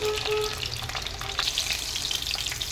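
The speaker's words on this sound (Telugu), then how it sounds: "ఆయిల్ వేడెక్కిన తర్వాత ఇట్లా కొంచెం లావుగా ఉన్న పచ్చిమిర్చి మధ్యలోకి చీల్చి వేసుకోవాలి" Thick green chillies, slit down the middle, fry in hot oil for a fish curry: a close, continuous crackling sizzle with busy popping and no talk.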